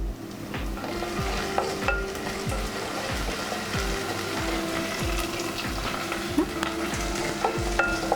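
Fresh mint stirred into frying prawn masala in a pan, with steady sizzling and repeated rhythmic scraping strokes of a spoon against the metal, continuous and close, no talking.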